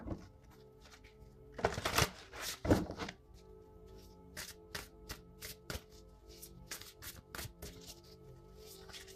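A deck of oracle cards is shuffled by hand close up, a flurry of papery riffling at the start followed by a run of soft, quick taps and flicks as the cards are handled, fairly quiet with no talk.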